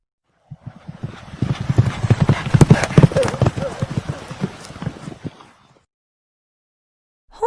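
Horse hooves clip-clopping in a quick, steady rhythm at close range for several seconds, with a faint whinny mixed in, then fading to silence.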